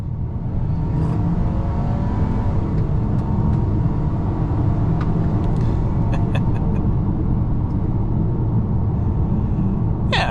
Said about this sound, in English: get it up to 25 miles an hour and hit the throttle and see what we can do